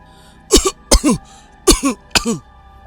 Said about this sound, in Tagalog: napansin kong panay ang ubo nito pagpasok pa lang ng pintuan